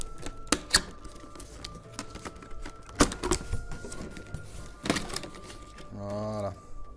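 A cardboard box holding an Ichiban Kuji Broly figure is opened up close, with sharp tearing and flap-snapping bursts scattered among rustling and handling noises, ending in a short ratcheting run.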